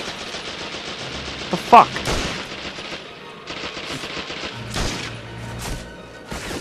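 Rapid gunfire from the Xbox game Medal of Honor: European Assault, heard in a farmhouse battle as loud, repeated bursts with a sharp crack near the middle. A voice exclaims briefly over the shooting.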